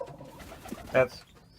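A pigeon gives a single short, soft coo inside a breeding loft, brief and fairly close over a quiet background.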